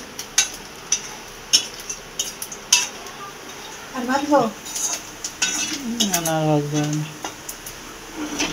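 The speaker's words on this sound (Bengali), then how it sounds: "এইখানে এই যে নারকেল ভাজা হচ্ছে" Coconut frying in a pan for khichuri, heard as scattered metal clinks and scraping stirs of a utensil against the pan, with voices talking in the middle.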